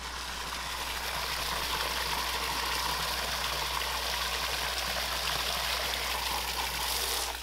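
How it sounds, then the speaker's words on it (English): Fresh water runs steadily into a goats' drinking trough on a farm raising Kiko goats, a continuous rushing, gurgling flow heard close and alone over a low steady hum. "Actually, we're filling up the water."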